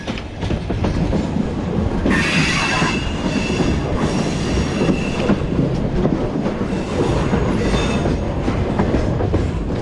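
A freight train in Georgia thunders past close by, a loud continuous rumble with rhythmic wheel clatter and occasional metallic squeals.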